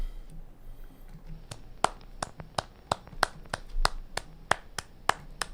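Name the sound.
man clapping his hands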